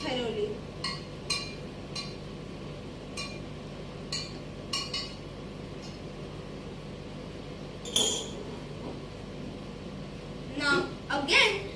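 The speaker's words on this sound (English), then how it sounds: "And now stir it thoroughly." A spoon stirs milk into water in a glass jar, giving repeated light glassy clinks and scrapes at an uneven rhythm, close and moderately loud, with a brief louder clatter near the end.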